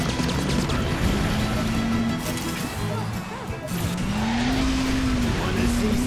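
Race car turbo boost in the Cars 2 video game on a timberline sprint track, a loud whining engine rising and falling in pitch under constant road roar, with in-game voice lines over it.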